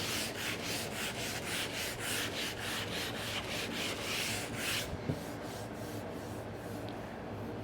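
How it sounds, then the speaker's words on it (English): Light hand sanding of a wooden piece with worn 150-grit sandpaper, during glue and stain repair work: about fifteen quick, even back-and-forth rasping strokes close by, then the strokes stop. "I'm going to just do a little bit of light sanding here."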